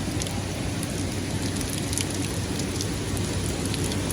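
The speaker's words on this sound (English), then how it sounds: "and just a lot of heavy rain right at this moment." Heavy rain from the remnants of Hurricane Ida pours down on a New York City street in a dense, steady hiss, with drops spattering on nearby surfaces and no voices.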